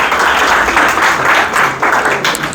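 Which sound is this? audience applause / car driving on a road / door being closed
audience applause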